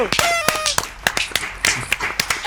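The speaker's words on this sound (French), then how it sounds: "On applaudit, s'il vous plaît." Studio audience clapping on a TV game show, a short burst of quick, crisp claps close by, mixed with a voice speaking early on.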